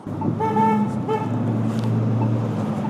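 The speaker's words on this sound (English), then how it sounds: "I wonder if these people who are honking" Car horns on a road, two short honks close together followed by a longer low horn blast, heard over steady traffic rumble.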